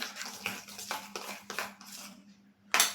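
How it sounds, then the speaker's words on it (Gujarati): A homemade ubtan soap mixture scented with jasmine essence is stirred in a bowl, giving a series of light scrapes and taps of a utensil against the container, ending in one sharper clink. "અને ફરીથી બધું બરાબર મિક્સ કરી લેશું"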